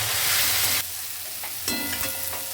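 Eggplant fries in a pan with salt and turmeric: a loud, dense sizzle that drops to a steadier, softer hiss after a moment, with light stirring scrapes near the end.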